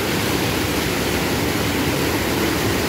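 Heavy runoff after rain in the Ceará backcountry, a dense continuous rush of water flowing over the ground, loud and steady throughout with no voices.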